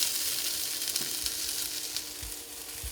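Vegetables hit hot rendered chorizo fat in a pan over lowered heat, giving a steady close sizzle and frying hiss with a few soft stirring thumps and no talk.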